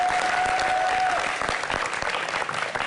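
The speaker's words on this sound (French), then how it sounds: "On l'applaudit, s'il vous plaît." Studio audience applauding a guest as they take a seat on a French talk show, dense steady clapping that thins slightly toward the end, with a brief tone early on.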